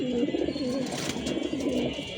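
Pigeons coo softly and continuously inside a loft during moulting season, a low rolling warble from nearby birds with no talking.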